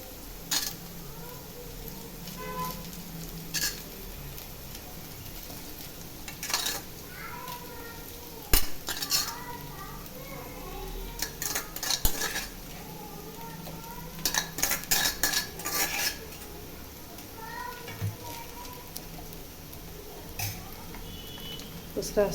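A metal spoon stirs cooked rice into vegetables in a pan for vegetable fried rice, making repeated scrapes and clinks in uneven bursts over a faint sizzle, with a voice talking now and then.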